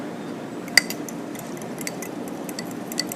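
A utensil stirs garlic, Italian seasoning, salt and pepper together in a bowl, giving soft scraping with a few light clinks against the bowl, close and quiet with no talking.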